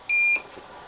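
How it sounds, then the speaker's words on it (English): A short, clean electronic beep as an Elegoo Neptune 2 3D printer powers on, sounding once, bright and moderately loud, over faint room hiss. "there's a nice little beep"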